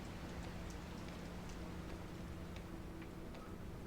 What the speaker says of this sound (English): The sound of raindrops in the window echoes faintly.